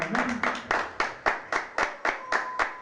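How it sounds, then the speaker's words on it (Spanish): A church congregation claps together in a steady, rhythmic beat, about three claps per second, loud and close, with a faint voice underneath. "Dale fuerte el aplauso al Señor."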